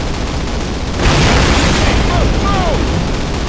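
A flak panzer in Call of Duty (2003, PC) blown up with explosives: a loud broadband boom swells in about a second in, then rolls on as a sustained roar with battle noise and whistling tones through to the end.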